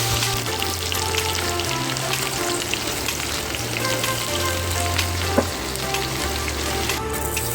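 Steady, loud sizzling of pork frying in a pan for pilaf, continuous crackle throughout with a low hum beneath and no voices.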